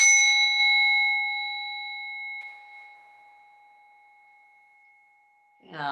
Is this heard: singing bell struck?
yes